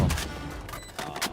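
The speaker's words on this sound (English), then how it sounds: "Survive the storm of gunfire" Rapid bursts of gunfire during a Valorant esports qualifier match, with close, dense shots and thuds clustered at the start and again near the end, over the steady background of the game.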